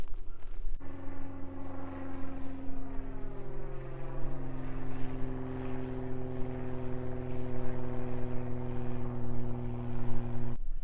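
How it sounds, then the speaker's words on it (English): A propeller airplane drones steadily overhead across an Alaskan coastal landscape, a loud, sustained low engine hum with a slowly shifting pitch, with no voices. "Even out here, I can't escape the airplanes."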